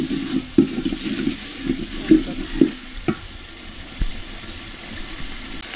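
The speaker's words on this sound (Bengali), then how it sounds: "মশলাটা ভালো করে কষিয়ে নেব।" Spice paste with turmeric, salt and a splash of water sizzles in a pan for winter vegetable khichuri, with soft frying hiss and a series of scraping stir strokes and clinks at irregular intervals.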